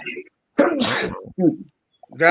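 A single loud, explosive human sneeze bursts out close by, with people talking before and after it.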